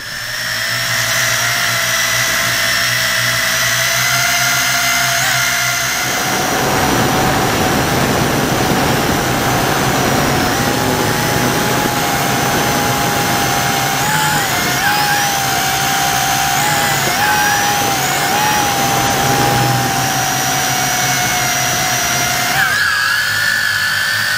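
A Tarantula X6 toy quadcopter drone flying high overhead, a loud steady high-pitched buzzing whine with rotor tones that rise and dip as it manoeuvres, continuous throughout.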